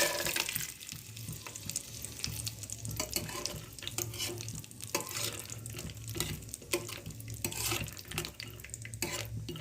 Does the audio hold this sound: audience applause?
no